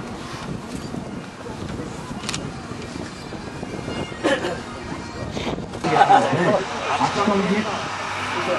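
A historic military vehicle built under Czechoslovak licence in 1948 drives through a reenactment of 1944 events at Nowosielce, giving a continuous rumbling engine and wind noise that swells toward the end, with a voice talking over it.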